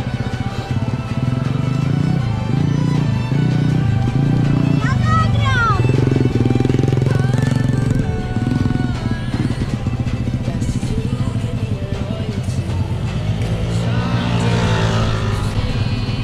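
A scooter engine revs and drones steadily while being ridden, loud and close throughout, with a rough motor roar filling the whole stretch and people talking over it.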